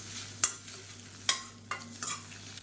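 Eggs with pepper, cumin and turmeric stir-fried in a pan, several sharp spatula scrapes and taps at irregular intervals over a quiet, steady sizzle, close and fairly soft.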